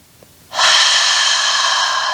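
A loud, sustained breath during a yoga stretch while one leg is held up behind, a steady hissing exhale or inhale lasting about a second and a half after a brief quiet start, close and alone.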